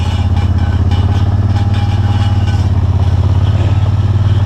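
A vehicle engine idles along at low RPM in low range while rolling a trail, a loud close steady throb with a regular pulsing beat throughout, no voices.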